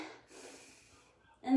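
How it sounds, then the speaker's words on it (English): A soft, drawn-out breath in during a core workout, faint and close, ending in a brief louder sound. "Take a deep breath in."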